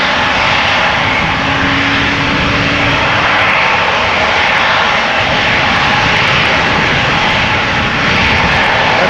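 Airbus A350 jet engines roar loudly and continuously at Amsterdam Schiphol Airport, a dense, unbroken rumble with a broad hiss that holds steady throughout.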